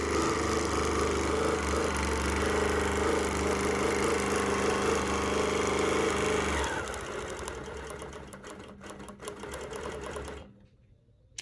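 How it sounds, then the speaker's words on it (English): A BERNINA Qmatic quilting machine stitching the last stitches on an arrowhead quilt hums with a fast, steady mechanical whir, close and constant, then slows and fades before stopping. "You're about ready to witness the final stitches here on the quilting of Anita's arrowhead quilt."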